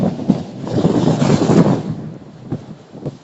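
Strong wind at sea buffets the microphone on a small fishing boat off Linapacan, Palawan, a loud, gusty low rumble that swells and fades in waves with brief thumping hits.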